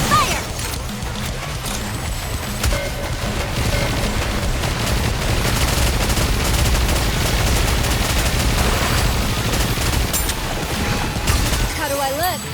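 Gunfire and explosions from the mobile shooter game Goddess of Victory NIKKE, a loud continuous barrage of shots and booms under game voice lines, filling nearly the whole stretch.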